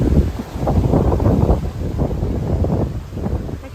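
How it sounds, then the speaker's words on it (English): Strong wind gusts outdoors during Hurricane Idalia, a steady roaring buffet against the microphone with surging, rustling bursts throughout, no voices. "When is this wind gonna go away?"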